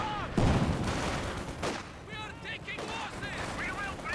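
Soviet B4 howitzer barrage in Company of Heroes 2 during a 2v2 match, with a heavy boom followed by rumbling explosions and mixed battle effects, while a commentator talks over it.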